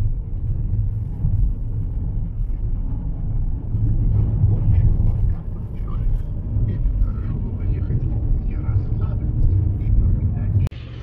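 Heavy livestock trucks grind along a mountain pass on the old Austrian military road, a steady deep engine rumble close by with no break, faint voices under it.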